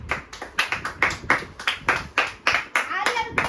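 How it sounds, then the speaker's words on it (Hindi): Rhythmic hand clapping at a family Raksha Bandhan celebration, roughly three or four sharp claps per second in a steady beat, with a voice briefly heard near the end. "तालियां रुकनी नहीं चाहिए"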